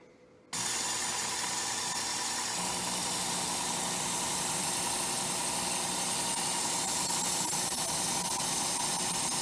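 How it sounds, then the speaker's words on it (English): A multi-speed belt knife sharpener starts abruptly, then grinds at slow speed against a knife blade, giving a continuous, even hiss and motor whir that stays close and steady to the end. "draw the knife through about an inch a second"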